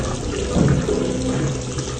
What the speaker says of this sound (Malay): Air ni leak melalui water trap ni.